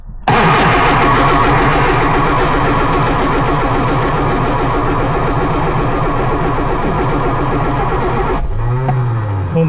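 A Lotus Elan's engine cranks over steadily on the starter after a long lay-up, a loud continuous churning whir that runs for several seconds without catching and then cuts off abruptly.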